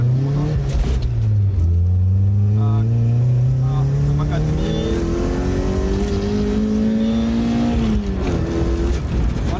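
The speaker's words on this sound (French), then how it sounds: "D'abord, je vais faire une petite accélération." A Toyota AE86 Corolla Levin coupe engine revs up, its pitch climbing steadily through the gears as it accelerates to 100 km/h, loud and close, with a brief shift dip early on.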